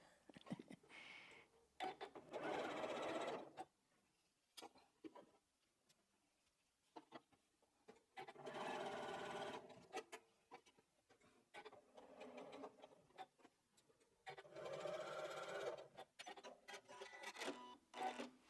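A sewing machine stitching quilt block pieces, several bursts of rapid mechanical whirring and clatter separated by quiet pauses and handling clicks, close and clear.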